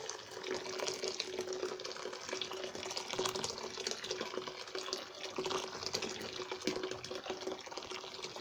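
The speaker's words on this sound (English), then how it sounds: "So we are going to pour our boiling water inside this" Steady stream of boiling water pouring continuously into a bowl, a constant splashing rush with no pauses.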